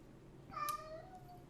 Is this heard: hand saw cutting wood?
no